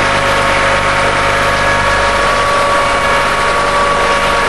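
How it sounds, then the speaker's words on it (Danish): A tractor-driven AM110T straw mill runs at a constant loud level, a steady mechanical drone with low engine rumble and a sustained whine, unchanging throughout. "Halmmølle AM110T til traktordrift, der transporteres i traktorens trækningsophæng"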